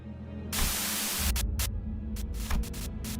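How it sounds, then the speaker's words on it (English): A harsh burst of radio static buzzes from a truck's speaker in Limbus Company, a loud hiss over a low hum that cuts in and out in short choppy bursts. "Sudden buzz of white noise breaks through the truck's silence."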